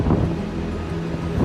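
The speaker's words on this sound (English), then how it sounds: "It's a windy day." On a windy day, wind buffets a boat heading down the river towards Breydon Water, a steady low rumbling rush with water noise underneath, unbroken and fairly loud throughout.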